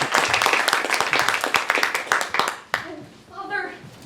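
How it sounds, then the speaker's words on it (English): A theatre audience at a stage performance claps in a burst of scattered, energetic applause that fades out, followed by a voice speaking. "Clap, if you believe"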